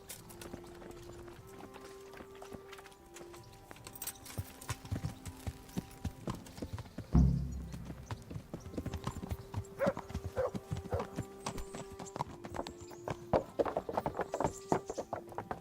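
Horse hooves clip-clop steadily in the medieval video game Kingdom Come: Deliverance, a brisk rhythmic run that carries on for the whole stretch under game music, with a brief thump partway through.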